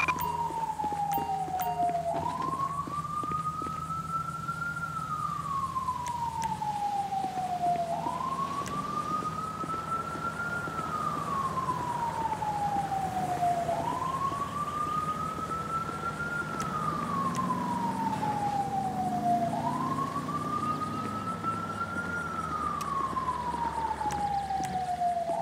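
In Grand Theft Auto 5, an ambulance siren wails in long rising and falling cycles, loud and unbroken, repeating about four times with a low engine rumble underneath.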